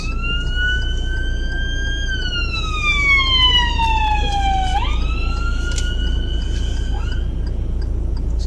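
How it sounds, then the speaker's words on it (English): An ambulance siren wails, sweeping slowly down and then back up in pitch, heard steadily over low road rumble from a car in traffic, fairly prominent and continuous. "there's an ambulance"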